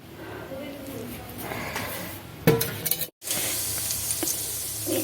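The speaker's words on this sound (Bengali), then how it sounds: "কড়াইয়ে দিয়েছি তেজপাতা, শুকনো লঙ্কা, পাঁচফোড়ন আর গোটা জিরে" Bay leaf, dry chillies, panch phoron and whole cumin crackling in hot oil in a wok, a continuous soft sizzle with a sharp clink and a brief cut, under a speaking voice.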